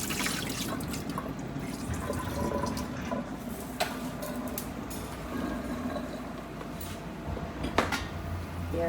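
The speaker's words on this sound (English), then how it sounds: "Wash my rice and put it in." Tap water runs steadily into a kitchen sink as rice is rinsed, a continuous splashing wash with a few faint clinks and knocks near the end, and no talking.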